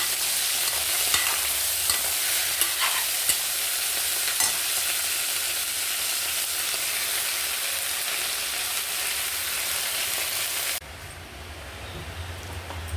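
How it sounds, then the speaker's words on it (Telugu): Ponnaganti and amaranth leaves, cut into small pieces, fry in a pan with a steady, dense crackling sizzle, close and continuous, with occasional stirring scrapes before it drops quieter near the end. "పొనగంటాకు తోటకూర చిన్న చిన్న ముక్కలు కట్ చేసుకొని ఫ్రై చేసుకోవాలి."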